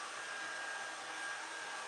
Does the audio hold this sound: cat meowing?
no